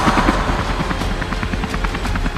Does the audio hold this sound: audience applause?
no